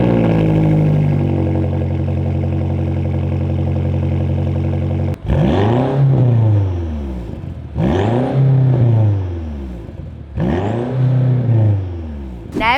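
A BMW M5 Competition's 4.4-litre twin-turbo V8 idles steadily, then is revved hard three times, each loud rising blip falling away again, close up and with no voices.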